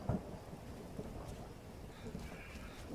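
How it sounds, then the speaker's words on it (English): Skyrim video game thunderstorm at night: a faint, steady hiss of rain with low rumbling underneath, quiet and distant, with no talking. "Oh, a nice little thunderstorm as well at night."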